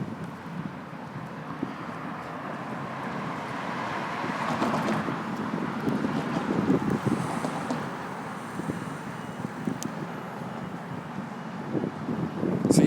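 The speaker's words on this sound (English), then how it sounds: "I wish there was no wind today, guys, but I can't stop the wind" Steady wind gusts outdoors in downtown St. Thomas, a continuous broadband rush buffeting the microphone, swelling slightly in the middle and rising again at the end, with no voices.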